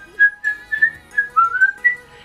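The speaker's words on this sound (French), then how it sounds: "Je sais siffler comme ça là." A person whistles a short melody through the lips, a clear bright tone rising and falling in about seven separate notes, close and alone in a quiet room.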